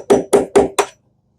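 Four sharp hammer blows strike a bolt to drive out a pin on a Johnson 150HP outboard motor, evenly spaced and close, then silence.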